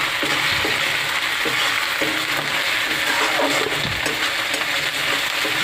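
Garlic and ginger paste stir-fried in hot oil gives a constant loud sizzle and hiss, with faint scraping of a spatula moving it around the pan and no speech.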